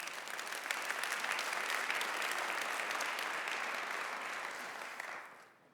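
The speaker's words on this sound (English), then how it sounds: "Can I get a round of applause for that story?" Steady audience applause fills a keynote hall at a software industry conference, holding dense and even before tapering off at the end with no one speaking.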